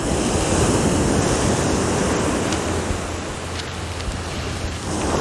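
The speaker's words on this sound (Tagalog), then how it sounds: "Naririnig nyo ba yung ingay ng alon?" Ocean surf breaks steadily on Dinadiawan white beach in Dipaculao, Aurora, a loud, continuous roar of waves washing ashore with wind buffeting the microphone and no voices.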